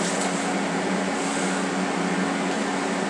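TIG tack welds joining a stainless steel bolt to a piece of steel with a finger-switch torch, giving a steady, even electrical hiss and hum that holds throughout at close range, with no voices.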